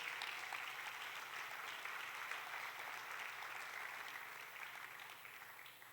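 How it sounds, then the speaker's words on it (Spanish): Congregation applauding at a Spanish-language church service, sustained dense clapping that sounds fairly distant and fades slightly toward the end. "Denle fuerte el aplauso."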